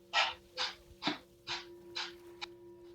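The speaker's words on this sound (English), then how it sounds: "You're going to continue the breath of fire through your nose as follows." Rapid yoga breath of fire pushed out through the nose, six sharp rhythmic exhalation bursts about half a second apart, close and fairly loud against a quiet room with a faint steady hum.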